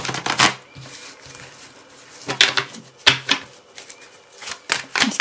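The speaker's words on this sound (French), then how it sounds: "je vais peut-être simplement faire une coupe" A tarot deck is cut and handled, giving several short, crisp card slaps and riffling shuffles in quick bursts close by, separated by quieter pauses.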